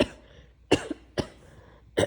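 A person with a fever and sore throat gives three harsh, separate coughs, close to the microphone, with quiet pauses between them in an otherwise still room.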